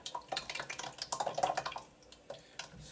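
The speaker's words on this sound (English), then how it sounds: "we're going to dump the sauce into a pot" Canned pasta sauce, two cans' worth, is dumped into a cooking pot, giving a rapid run of soft wet plops and splats with a few metallic taps before tapering off.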